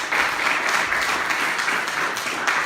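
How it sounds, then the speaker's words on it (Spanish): Church congregation applauding together, a steady dense wash of clapping that holds at even loudness throughout, with no voices standing out. "Dale un aplauso al Señor por eso."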